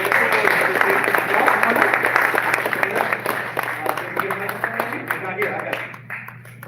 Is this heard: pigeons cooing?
no